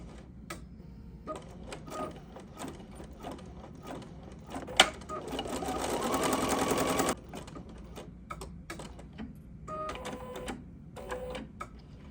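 An embroidery sewing machine stitches a placement line for a monogrammed fabric piece and trim on an in-the-hoop make-up bag, with rapid mechanical clattering in bursts and one longer, louder continuous run midway, close by.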